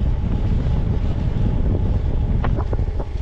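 Strong wind off the sea buffets the microphone while gravel cycling on the Île de Ré coast, a loud, steady roaring rumble throughout with a few faint squeaks near the end.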